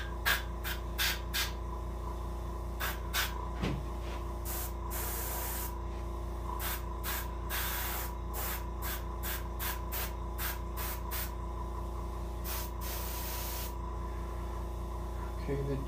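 An airbrush hisses in short, repeated bursts as white trim is sprayed onto an arctic char taxidermy mount, over a steady low compressor hum.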